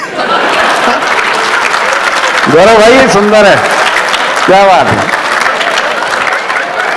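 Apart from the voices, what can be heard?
audience applause at a live comedy show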